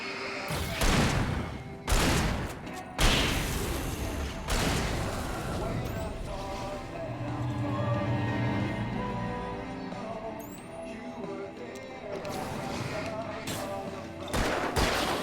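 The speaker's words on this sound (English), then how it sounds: "Why am I shooting early?" Gunfire in the video game Alan Wake: several sharp, loud shots go off in an irregular sequence, the first few close together, followed by quieter rumbling stretches and more bursts near the end.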